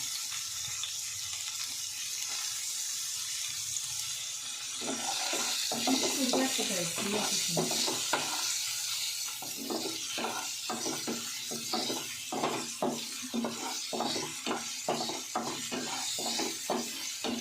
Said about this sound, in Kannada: ನೆಕ್ಸ್ಟು ಆನಿಯನ್ನ ಹಾಕೊಳ್ತಾ ಇದ್ದೀನಿ